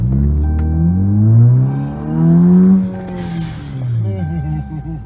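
Revving 2015 Chrysler 200 2.4L four-cylinder with a Roar throttle controller in sport mode, heard close and loud as the engine note climbs and falls through two strong pulls, with a brief hiss between them.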